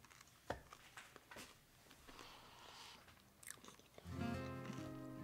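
Crunchy bites into mashed potatoes topped with Frosted Flakes, bacon, green onion and cheddar, several close crisp crunches and chewing sounds, ending with a brief tonal hum.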